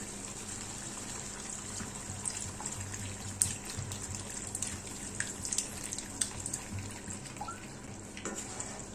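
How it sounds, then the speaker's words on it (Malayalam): Water pours steadily into a pot of Kerala-style mutton curry for several seconds, a soft continuous splashing with a few small clinks. "ഇനി നമുക്കിതിലേക്ക് ആവശ്യത്തിന് വെള്ളം അങ്ങോട്ട് ചേർത്ത് കൊടുക്കാം."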